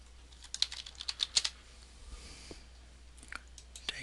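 Keys clatter on a computer keyboard during a virtual machine setup, a quick burst of close, crisp keystrokes early on, then scattered lighter taps over a quiet room hum.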